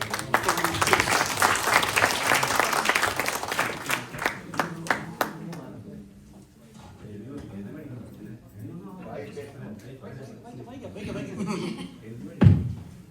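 Applause from an award ceremony crowd fills the first half, dense clapping that thins out and fades, followed by quieter murmuring and a sharp bump near the end.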